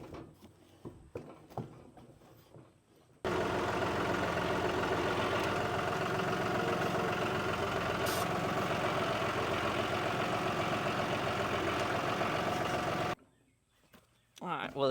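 Tractor engine idling, a steady, loud diesel rumble that starts abruptly, holds evenly for about ten seconds, then cuts off, with quieter clanking and handling noises before and after.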